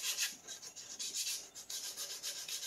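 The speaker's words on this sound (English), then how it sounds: "you kind of go in with a micro needle file, and you really get in these channels here" Quick rhythmic rasping strokes of a micro needle file scrape back and forth in the channels of a hard plastic 3D-printed part, close and steady, with no talking.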